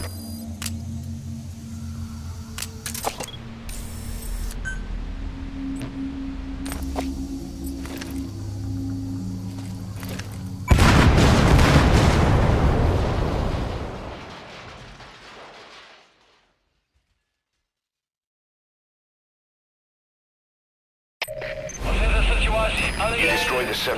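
An oily water separator tank explodes in the video game Metal Gear Solid V: a sudden loud burst that rumbles and fades into silence, after in-game ambience and speech, then game sound resumes.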